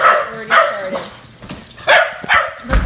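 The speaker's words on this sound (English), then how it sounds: "We're barking." A dog at home barks loudly and close, four sharp yapping barks in two pairs with a short gap between them, followed by a soft thump.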